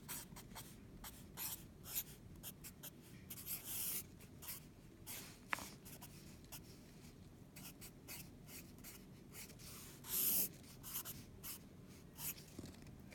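Pen strokes scratch steadily across paper while the empty shell of the quadratic formula is written out, a dense run of short close strokes with brief pauses and a couple of louder scrapes.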